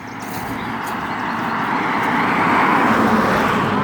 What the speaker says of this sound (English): Here comes another damn car.